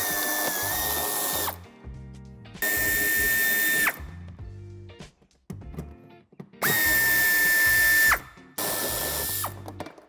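A power tool whirs in four bursts, each lasting one to two seconds and separated by short clicks and pauses, as it removes a 10 mm bumper corner screw on a 2017 Fiat Scudo III.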